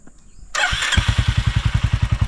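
A 2025 Royal Enfield Hunter 350 motorcycle engine cranks and fires up, settling at once into a steady, loud thumping idle close by.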